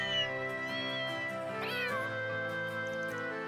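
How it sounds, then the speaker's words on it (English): Cute cat meows recorded in the Capitol of the video game Trails Beyond the Horizon. Several clear, close meows follow one another, including a rising, drawn-out cry, with no talking over them. "It plays a collection of cute cat sounds I recorded in the Capitol."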